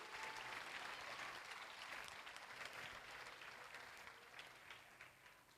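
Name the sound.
audience applause at a school Teachers Day celebration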